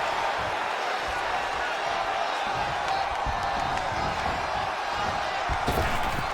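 A large arena crowd at a Los Angeles WWE 2K20 wrestling event roars in a dense, continuous wash, with scattered claps and thumps rising near the end.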